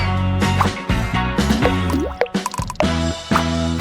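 Water plops and drips as it is poured into gelatin with dye, wet splashy bursts layered over a bright, busy musical backdrop.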